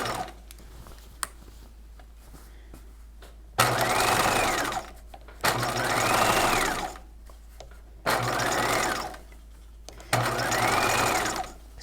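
A sewing machine stitches a bodice sleeve, running in four sustained bursts of steady whirring with short quiet pauses between them, close and clear with no talk.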